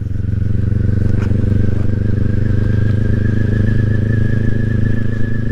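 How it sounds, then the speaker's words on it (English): A Kawasaki Ninja 400 motorcycle on a Sunday morning ride, its engine droning steadily and loudly up close throughout, with a rising whine running over the constant rumble. "Just going for a little poke on a Sunday morning on the Ninja 400 here."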